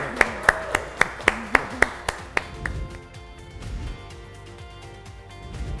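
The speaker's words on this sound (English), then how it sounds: "So let's give Natasha another round of applause." Audience clapping at a school awards ceremony, heard as a run of sharp, evenly spaced claps early on that thins and fades into quieter room noise.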